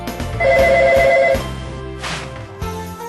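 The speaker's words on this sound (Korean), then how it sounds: "주문 전화 들어오자마자" A telephone rings with a steady electronic trill for about a second, then stops; a quieter second ring follows after a short pause.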